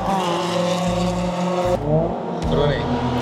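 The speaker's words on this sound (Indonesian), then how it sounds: "udah kedengeran suara knalpot itu kayak suara BRZ" Subaru BRZ race cars with loud exhausts in a one-make racing series, heard close and loud as engines rev and roar with rising and falling pitch, cut into short bursts with abrupt shifts.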